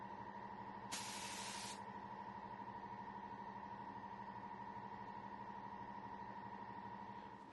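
A short burst of spray coating hisses for under a second as Cerakote is airbrushed onto a skeleton knife blade, standing out over a steady electrical hum that continues alone afterward.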